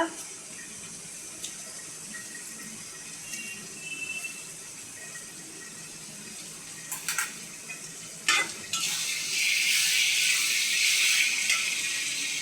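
A little water poured into a pot while cooking koi fish curry, heard as a soft faucet-like trickle and splash that swells near the end over a low background hiss.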